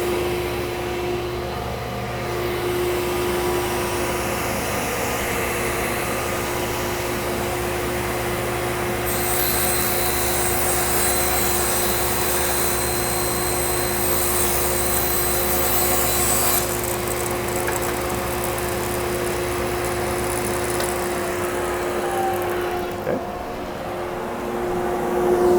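A table saw hums steadily through the whole stretch, a constant loud motor whine with a shift in tone partway through as a cut begins and ends, no voices over it.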